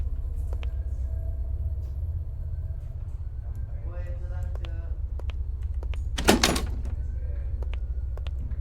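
A door in the Paranormal Entities video game rattles as someone tries it while it stays locked, with a few short clicks followed by one louder clunk, all over a steady low hum.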